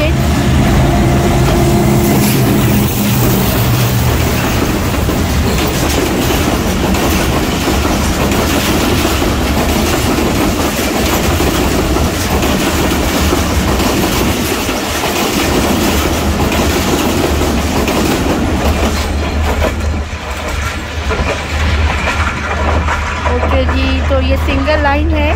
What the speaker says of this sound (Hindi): तो जी ये आ चुकी है 48 डाउन रहमान बाबा एक्सप्रेस